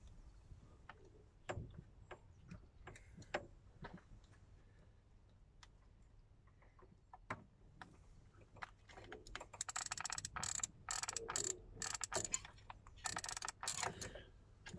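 A ratchet wrench clicks in scattered bursts while loosening a spark plug on a Lada Niva 21213 engine that jerks at low throttle, the ticks growing denser and louder near the end.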